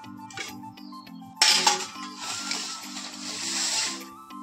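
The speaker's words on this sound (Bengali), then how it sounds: "দেখো তেল পরে কি হয়েছে থালাটাকে একটু মেজে নেবো।" A metal thala plate with oil on it is scrubbed, with a clink at first, then a steady rough scouring rasp over a rhythmic background hum, close and moderately loud.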